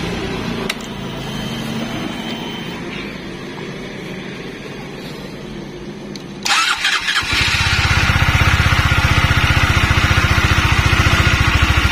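A Honda CBR150 motorcycle engine is cranked and catches, then settles into a loud, steady idle close by.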